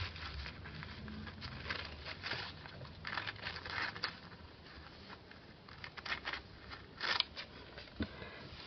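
Scissors cut a strip of paper up close, a series of soft irregular snips and rustling paper crinkles of uneven loudness, with no one speaking.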